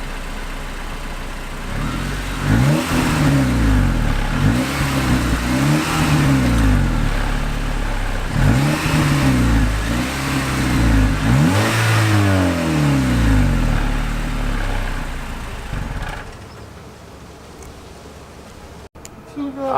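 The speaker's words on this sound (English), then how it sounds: "First, we're gonna show you guys the stock exhaust and how it sounds" The stock exhaust of a 2015 Honda Civic Si revs repeatedly from idle, each loud, close rise and fall following the last in a steady rhythm before it settles back to a quiet idle.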